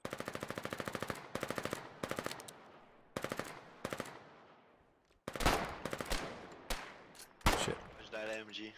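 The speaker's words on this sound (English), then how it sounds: "There's that MG." Machine gun fire in the war game Foxhole, repeated rapid bursts of shots, some close and loud, others trailing off, with a voice speaking between them.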